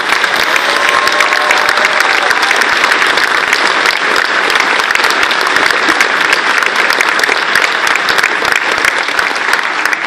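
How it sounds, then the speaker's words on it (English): A large audience applauds honors band students at a concert, dense steady clapping filling the whole stretch at full volume with no pauses. "So let's give them a round of applause."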